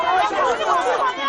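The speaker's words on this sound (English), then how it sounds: "You can hear the jeers of disbelief from the crowd." A crowd of villagers jeers and shouts in disbelief, a dense, continuous babble of many voices close by with no single voice standing out.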